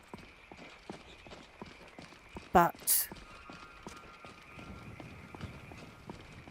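Rhythmic video game hoofbeats from Skyrim VR clip-clop at a quick, galloping pace with two sharp louder thuds midway, a voice speaking briefly over them.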